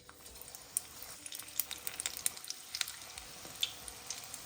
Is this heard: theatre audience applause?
no